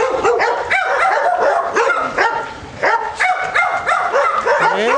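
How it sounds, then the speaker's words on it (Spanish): Several dogs bark and yip close by, loud and overlapping in rapid bursts throughout, at an outdoor bike ride in Magdalena Contreras. "¡Ah, sus perros!"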